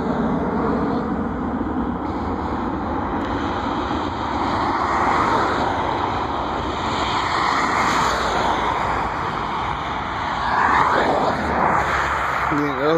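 A JetBlue Embraer 190 jet airliner roars past at an airport viewing park, a loud sustained engine rumble with rising and falling whine, while people talk over it.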